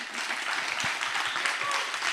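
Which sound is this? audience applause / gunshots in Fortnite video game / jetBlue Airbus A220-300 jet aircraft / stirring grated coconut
audience applause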